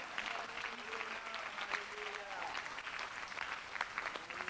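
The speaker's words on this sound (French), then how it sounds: "On l'applaudit avec force et puissance." A church congregation applauds strongly during a French-language prayer service, a steady wash of clapping at moderate level with voices calling out over it throughout.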